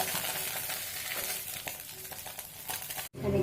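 Onions fry in a pan while being prepared for a boroli fish vorta, giving a close, continuous crackling sizzle with bursts of stirring that briefly cut out before the hiss resumes.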